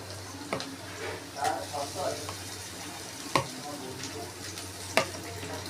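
Ginger, garlic and green chilli paste goes into a pan of fried onions, giving a soft steady sizzle with occasional sharp utensil knocks and scrapes, fairly quiet and close, with a voice faintly present.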